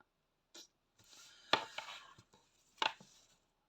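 Thread snipped at the end of a strand during hand embroidery on a spring-themed canvas, heard as a few quiet, sharp scissor clicks and rustles, close by and with no talking.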